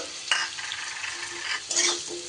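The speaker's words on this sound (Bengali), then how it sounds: "এইবার দিয়ে দিচ্ছি আমি কেটে রাখা কুমড়োগুলো" Cut pumpkin pieces go into hot oil and are stirred, giving a close, steady sizzle with a couple of scraping stir strokes over a short stretch.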